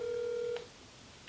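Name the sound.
telephone ringing during a phone call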